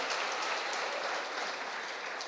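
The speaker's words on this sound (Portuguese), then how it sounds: "dê um aplauso poderoso a Jesus nessa manhã" A church congregation applauds Jesus during a morning service, a dense, steady wash of clapping from many hands that carries evenly through the whole moment without any voices.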